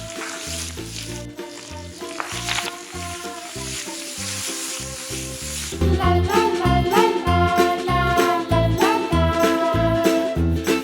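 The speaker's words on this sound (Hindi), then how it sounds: "आप इसमें अपना लहसुन डालूंगी पहले, जीरा" Garlic, cumin and green chilli sizzle and fry steadily in hot oil, a dense continuous crackle that grows louder and busier partway through as more ingredients hit the pan.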